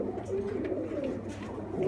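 Flying-breed pigeons kept by fanciers in Sialkot, Pakistan, coo softly over a steady low background hum, with no talking.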